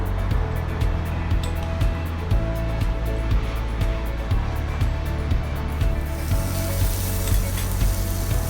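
Butter sizzling loudly in a very hot pan while sizzling gambas are being prepared, a steady close crackle and hiss with scraping and stirring mixed in, which grows brighter toward the end.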